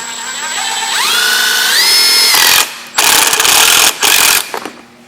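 A 1.25-inch bolt is driven into a wooden baseboard with a power tool: a rising motor whine holds steady, then breaks into two loud, gritty bursts of driving, close and alone with no talk.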